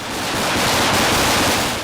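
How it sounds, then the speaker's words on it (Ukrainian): Gunfire and explosions echo through city streets during unrest in Bishkek, heard as a dense, loud, continuous roar of bursts and blasts with no speech. "на вулицях чути стрілянину та вибухи"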